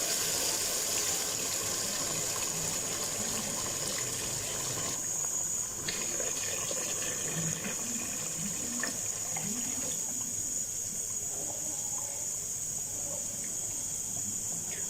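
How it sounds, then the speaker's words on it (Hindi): Mutton yakhni stock poured into a cooking pot gives a continuous gushing, splashing liquid sound, steady and close for the whole stretch with slight shifts in tone. "1 लीटर इसमें यखनी ऐड हो जाएगी"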